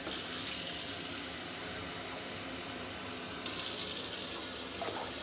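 Tap water running into a measuring cup while preparing quinoa for a granola mix: a steady, loud, close rush of flowing water whose tone shifts as the cup fills and is moved, with no talk.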